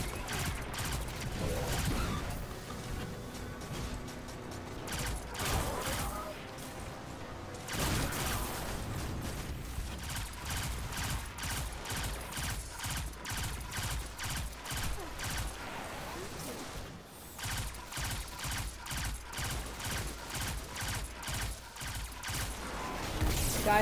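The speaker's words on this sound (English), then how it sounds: "this is like actually my favorite pulse rifle" Pulse rifle gunfire from the video game Destiny 2 comes as dense, continuous rapid bursts of shots, loud and steady across the whole stretch.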